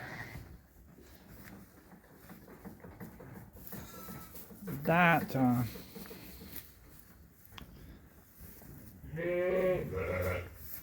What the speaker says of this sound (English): So I'm going to move these 2 lambs, sheep out.